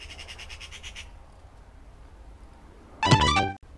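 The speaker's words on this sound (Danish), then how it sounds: "der er også en pisse irriterende fugl, der sidder og larmer" An irritating bird calls with one loud, harsh squawk near the end, preceded by fainter chirping and a quiet outdoor stretch.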